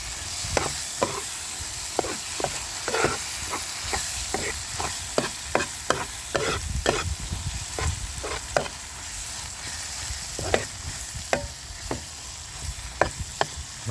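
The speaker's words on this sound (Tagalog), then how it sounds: "Nilulusak ko lang yung kamatis para mas masarap." Tomatoes are mashed in a pan with eggs, onion and garlic, giving a run of sharp, irregular scraping and pressing strikes of a utensil over a soft background sizzle, close by, with no talking.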